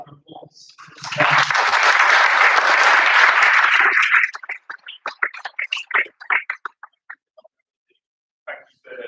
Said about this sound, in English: I think I deserve an extra round of applause